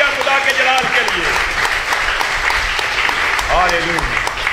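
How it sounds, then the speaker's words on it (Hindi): Congregation at a Friday prayer service clapping loudly and continuously, with voices calling out and a speaker talking over the dense applause. "जोरदार तालियां खुदा के जलाल के लिए।"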